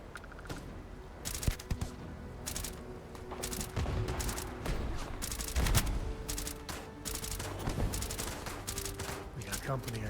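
Gunfire in Starfield, a rapid, irregular burst of shots with heavy booms, some close and some farther off, running through the whole stretch over a steady background hum.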